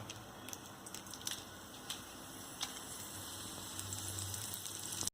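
Mustard seeds and dried red chilies spluttering in hot oil, a steady close sizzle with scattered sharp pops and ticks, no voices.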